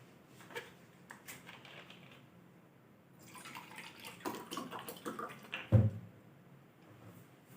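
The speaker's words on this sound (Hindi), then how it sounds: "एक मिनट में पानी पी लूं थोड़ा सा।" Water being drunk during a pause in a history lecture: quiet liquid sloshing and faint handling noises build up, followed by a brief dull thud near the end, with no talking.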